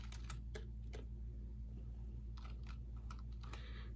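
Fingers type on a computer keyboard in a quiet room, a quick run of soft, irregular clicks and taps over a low steady hum.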